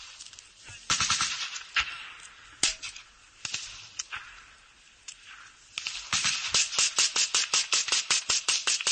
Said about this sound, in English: You can hear some gunfire.